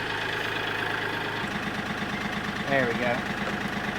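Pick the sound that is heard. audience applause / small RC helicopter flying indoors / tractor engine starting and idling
tractor engine starting and idling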